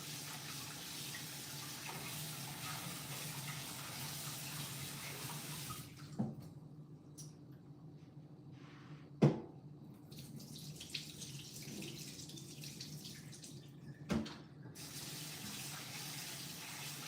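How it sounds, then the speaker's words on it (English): Cold water runs steadily from a kitchen tap onto shredded tapioca, a soft continuous splashing hiss that cuts off partway, followed by quiet drips and a few sharp clinks. "Let me add some cold water to these tapioca to keep it from sticky."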